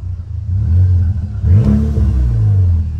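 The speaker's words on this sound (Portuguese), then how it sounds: "Você pega um carro desse, acelera ele" Volkswagen Jetta GLI with 211 horsepower, lowered on 20-inch wheels, revving hard as it accelerates, a loud, close, deep engine roar that rises and swells with exhaust rumble.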